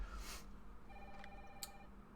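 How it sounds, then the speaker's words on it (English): In the video game Resident Evil 3 Remake, a telephone rings faintly in quiet surroundings, with short trilling bursts that carry a thin electronic tone. "we make our way to the ringing phone"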